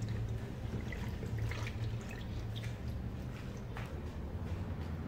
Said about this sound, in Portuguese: vou misturar na água para dissolver